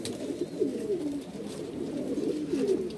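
Pigeons in a loft of about 26 birds coo steadily and close by, their low throaty calls overlapping in a continuous murmur.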